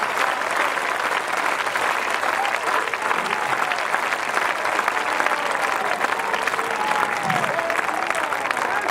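An audience at a Hindi poetry recital claps loudly and steadily for nine seconds, with a dense, even roar of hands and faint crowd murmur underneath.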